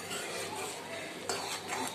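Garlic chutney being stirred in a simmering pot, with a spoon scraping and clinking against the metal over a constant bubbling hiss, close and continuous, with a sharper clink near the end.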